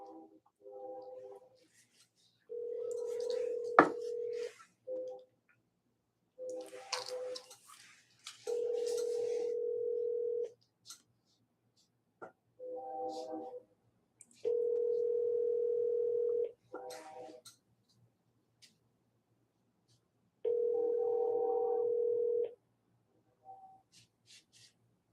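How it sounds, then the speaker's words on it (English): A telephone call being placed: a steady electronic ring tone sounds in regular bursts of about two seconds with pauses between, and a few brief voice fragments and faint handling noises fall in the gaps. "Okay, I'll call Kelsey"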